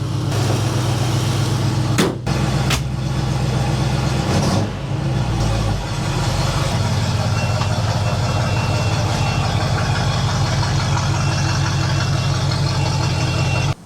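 The engine of a 1967 Mercury Cougar, recently fitted with a new oil pan, runs steadily on a test drive as a loud, continuous low drone, with a couple of brief knocks early on.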